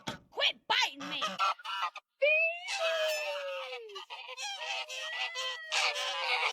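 An angry farm goose honks and hisses at close range, with harsh, loud calls in rapid bursts and a person's voice breaking in between them.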